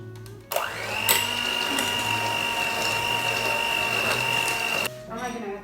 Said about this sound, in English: I have a mixing machine.